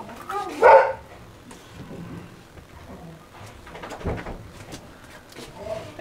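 Pet dogs barking ahead of their dinner time in a home crafting space, one loud close bark burst early, then quieter scattered yaps over low background noise and some speech.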